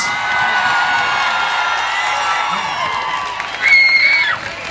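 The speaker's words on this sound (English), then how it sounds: "give them a big round of applause" An audience at an army band performance cheers and claps, a crowd roar with whoops and high shouts that surges sharply near the end.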